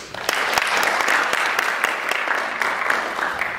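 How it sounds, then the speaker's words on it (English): An award ceremony audience in Belgium gives sustained, even applause, many hands clapping steadily throughout with no voices standing out. "please give them another round of applause"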